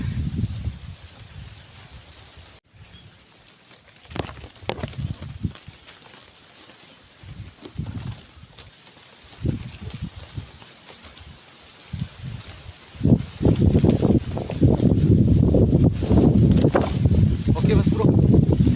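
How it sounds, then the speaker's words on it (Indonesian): Strong wind roars around a person perched high in a treetop while checking a bird's nest, buffeting the microphone in gusts that grow heavier and more sustained toward the end, with someone talking in between. "Angin cukup kencang Mas Bro."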